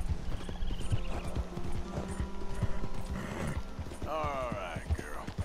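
A horse gallops in the Red Dead Redemption 2 video game with steady rhythmic hoofbeats and creaking tack, and a whinny comes near the end, all heard under someone talking.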